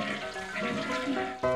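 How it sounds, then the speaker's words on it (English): Cartoon toilet flush in a nursery paper-doll cartoon, a dense watery rush lasting under two seconds with layered bright tonal music over it, rising to a louder burst near the end. "Remember to flush."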